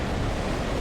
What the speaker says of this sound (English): Okay, listen, waves.